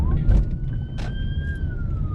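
Police car siren on a UK B-road behind the car, a steady rising wail heard faintly from inside the car over loud road and engine rumble.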